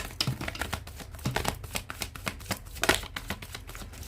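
A deck of cards is shuffled close up with quick riffling and soft slapping bursts in a rapid, uneven rhythm, faint and alone with no talking.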